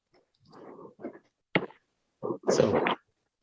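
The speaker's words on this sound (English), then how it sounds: "what you're hearing there is indeed the notification that the CCD or the chip collects the data read out" A readout notification from a telescope's CCD camera at Griffith Observatory: a quiet run of five or six short, clipped, voice-like electronic bursts over about three seconds, with the last burst the loudest, each separated by silence.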